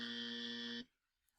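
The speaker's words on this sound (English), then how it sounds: "If I click on the wrong letter, I will get a buzzer sound." A wrong-answer buzzer from a Boom Cards spelling activity: one steady, harmonically rich electronic buzz lasting under a second, cutting off abruptly into near silence.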